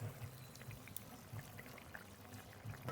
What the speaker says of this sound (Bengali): এবার মাছ দিয়ে দেব ভেজে রাখা সরপুটি মাছ